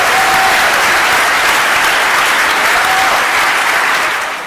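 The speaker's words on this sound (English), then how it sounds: "Let's give one more clap for all of our champions today" Convention audience applauding together, a dense steady wash of many hands clapping at close range that carries on through the whole stretch and eases slightly at the very end.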